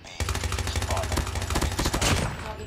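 Rapid automatic Kilo 141 rifle fire in a video game, a dense, close, continuous burst of evenly spaced shots lasting a couple of seconds.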